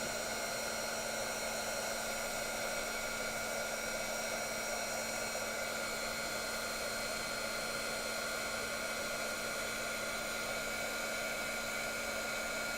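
A heat gun blows steadily and closely on embossing powder, a constant loud whirring hiss with no pauses.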